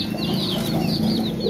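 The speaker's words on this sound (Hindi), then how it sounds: "ये देसी चूजे हैं," Desi chicks chirp steadily in a busy cluster, high repeated peeps overlapping continuously at close range with no voices.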